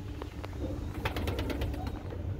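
Domestic pigeons in a pigeon loft on a farm of local breed birds, with soft low cooing and a few faint rustles at moderate distance over a steady low background hum.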